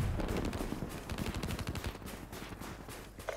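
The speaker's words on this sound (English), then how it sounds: "I'm shooting at one and someone else is shooting me" Rapid automatic gunfire in Call of Duty: Black Ops 3, with dense bursts of close shots overlapping one another and continuing throughout.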